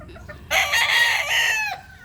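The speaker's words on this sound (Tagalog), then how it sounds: "yan ang mga inahin namin" A rooster or hen in a backyard flock of chickens gives one loud, close crowing call lasting about a second, with faint clucking before and after.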